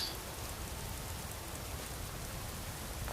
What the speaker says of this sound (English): I love being running in the middle of the night, when it's a rainy night.